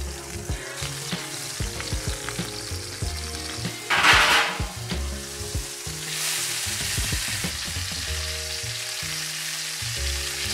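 Venison heart cutlets fry in near-smoking bear fat with a steady, close sizzle and crackle, broken by a few stirring and scraping clatters and a brief louder burst of spatter partway through.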